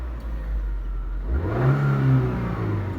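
A car engine idles low and then revs up and holds, loud and close from inside the car during a driving lesson.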